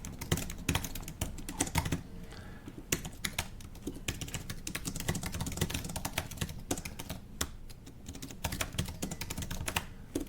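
Fingers type Bash script code on a computer keyboard, with rapid irregular bursts of sharp key clicks and occasional heavier thumps of a spacebar or return key, close and steady without speech.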